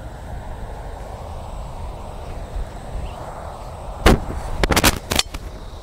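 Golf balls struck cleanly with a club: a few sharp, loud cracks bunched together near the end, following several seconds of steady low outdoor background rumble.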